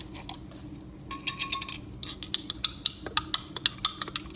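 Metal cutlery clinks and rattles nearby as a fork is picked out from among other utensils in a kitchen, a run of small sharp taps and jingles with no voices.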